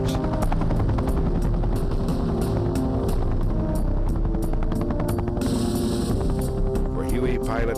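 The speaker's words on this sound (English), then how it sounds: "Many would ride into battle on the UH-1 Huey." A UH-1 Huey helicopter flies overhead with a loud, steady rotor thump and a low engine drone, while a narrator speaks over it.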